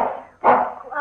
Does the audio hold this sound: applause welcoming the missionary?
no